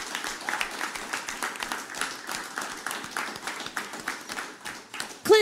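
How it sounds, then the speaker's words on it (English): A studio audience at a live radio bluegrass broadcast gives a moderate round of applause, steady, fairly close clapping that continues and then cuts off at the end. "let's have one more big round of applause for Clint Klatzer, the first."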